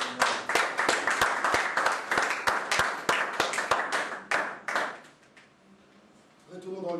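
A church congregation claps in rhythmic unison, a steady run of sharp, evenly spaced hand claps that continues for about five seconds, then stops, leaving quiet room tone before a faint murmur returns.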